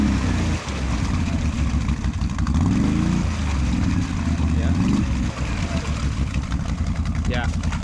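A 2022 Can-Am Outlander 570 XMR ATV engine revs under throttle in mud, a loud steady drone rising and falling in pitch, with people talking over it.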